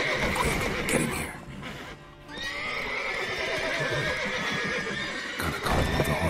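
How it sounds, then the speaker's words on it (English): Horses in the video game The Witcher 3 neigh loudly in long whinnies while hooves clop rapidly beneath, a busy, close stable commotion with a brief dip before the neighing resumes. "Gotta call all the horses before they wake the guards"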